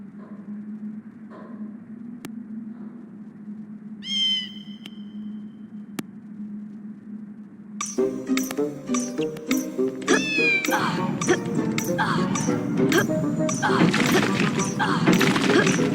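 A kitten in a Harry Potter video game meows a few times over a steady low game hum, then crashing blocks, clatter and lively game music take over, with more meows mixed in.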